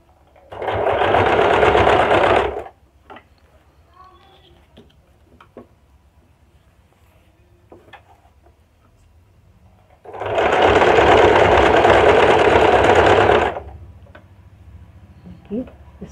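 Sewing machine stitching a double seam on fabric, two loud bursts of rapid mechanical whirring a few seconds each, separated by quiet handling noises and brief clicks, with someone speaking between runs.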